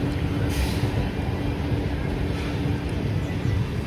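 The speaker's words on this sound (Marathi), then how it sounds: "अशा प्रकारचं आपलं हे भोपाळ रेल्वे स्टेशन स्किप करून आपली गाडी पुढे निघालेली आहे" A passenger train rolls on past Bhopal railway station, its steady low rumble and rattle continuous and close throughout, with no break in the running noise.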